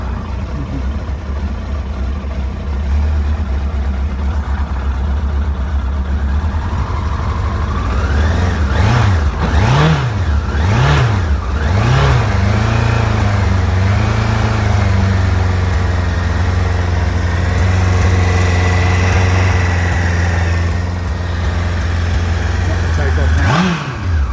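A 1999 Yamaha R1 motorcycle engine idling steadily, with a few quick throttle blips rising and falling in pitch midway before it settles back to a smooth idle, recorded close up.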